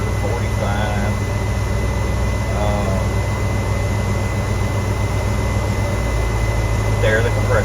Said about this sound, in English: There, the compressor come back on.